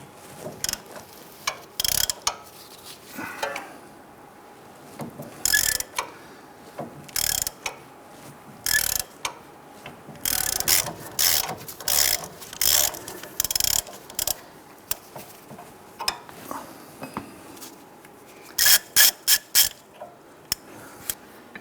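A wrench works the nuts off a front sway bar link on a 2002-2008 Dodge Ram 1500, with irregular bursts of close ratchet clicking and metallic ticks separated by quiet pauses.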